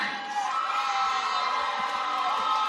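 Arena crowd at an MMA event in Memphis, Tennessee cheering and whooping loudly as a fighter walks out, a dense, continuous roar with high shouts on top.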